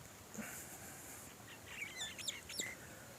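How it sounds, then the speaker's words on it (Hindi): Lapwing calls at a wetland in Punjab on a village edge: a few faint, high, sharp chirping notes clustered toward the end, over steady distant background hiss, with no talk. "यहाँ लैपविंग के कुछ कॉल्स आ रही हैं"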